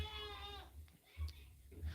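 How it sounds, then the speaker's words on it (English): Goat bleating from a pen outside a window, a wavering, harmonic-rich cry for about half a second near the start, followed by low rumbling background and faint indistinct sounds. "sorry about the goat"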